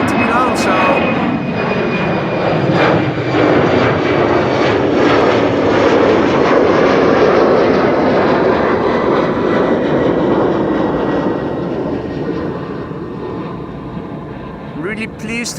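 An ANA airliner departs Schiphol's Kaagbaan runway 24 outdoors, a loud, broad jet-engine roar swelling and sustaining before slowly fading away, with a voice talking faintly underneath.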